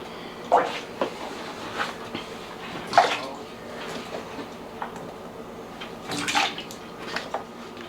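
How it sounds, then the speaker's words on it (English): Cold water runs into a cooking pot with a steady rushing wash, broken by a few clanks and knocks as the pot shifts, and no voices are heard. "so we're going to put these in a pot of cold water."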